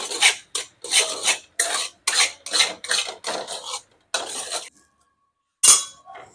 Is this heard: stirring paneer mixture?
yes